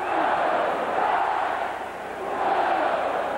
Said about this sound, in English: Listen to this crowd. They have been chanting Go Ducks the last 3 minutes.